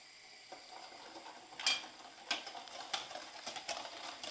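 Boiled milk being whisked into a mixture of egg, sugar and cornstarch, a soft rhythmic series of faint scraping, clicking strokes against a bowl, quiet and close with no voices.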